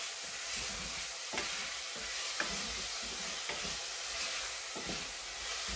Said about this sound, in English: just saute it until it's light brown, the meat